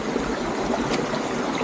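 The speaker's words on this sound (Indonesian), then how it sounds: "menyusuri air terjun" Water of the Sungai Duyan waterfall stream rushes and splashes steadily in a broad, constant wash, close and loud with no voices over it.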